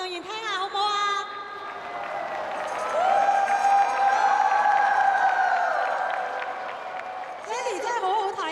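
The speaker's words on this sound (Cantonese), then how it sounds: "俾大聲啲嘅掌聲，我哋嘅金牌運動員聽下好唔好啊" A live audience applauds and cheers for Chinese gold-medal Olympic divers at a diving exhibition. A broad wash of clapping and crowd noise builds in the middle, with a loud voice speaking over it at the start and end.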